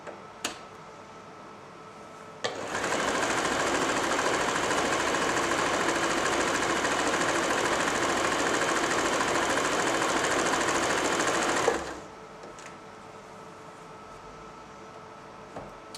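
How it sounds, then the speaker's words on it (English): A Janome J3-24 sewing machine runs steadily for about nine seconds stitching an overcasting stitch, a loud continuous mechanical whir that starts abruptly and stops cleanly, with quieter room noise before and after. "To do a simple overcasting stitch, stitch H,"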